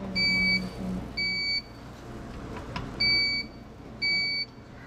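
A kitchen appliance timer gives four short, clear electronic beeps, evenly spaced about a second apart, each a bright two-tone chirp over quiet room noise, with no voices.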